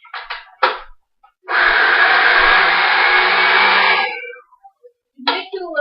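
An electric hand mixer beats banana bread batter in a bowl, running as one steady loud whir for about three seconds, with brief talk just before and after.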